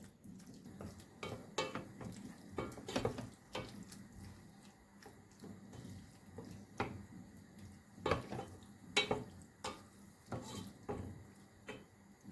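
A spoon stirring tomato sauce with spices in a pan, with irregular light clinks and scrapes against the cookware, soft and close, with no talking.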